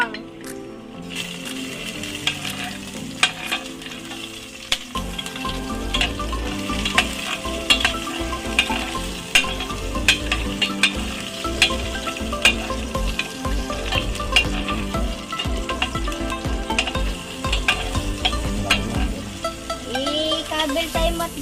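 Garlic sizzles and fries steadily in a pan for chicken tinola, a dense continuous crackle with frequent sharp clinks of a utensil stirring, close and loud throughout with no talking.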